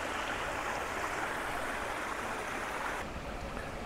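A small, clear river stream flows in a steady rushing wash of water, continuous and fairly close, with no voices over it.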